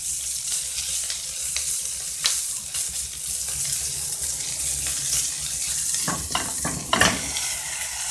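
A whole duck frying in a pot with melting mastic, a steady close sizzle with occasional stirring scrapes and a few sharper clatters near the end.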